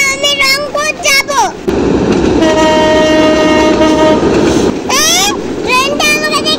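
A train rumbles past at close range with a loud, sustained horn blast in the middle. A voice talks just before it arrives and again as it fades.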